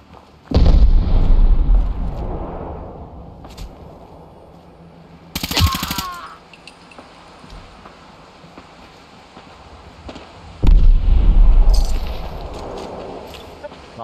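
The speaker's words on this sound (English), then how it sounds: "Man, there's a massive war going on back behind me." Loud bursts of rapid gunfire and booming explosions from the video game Fallout 4 come in waves, with quieter stretches of distant rumble in between.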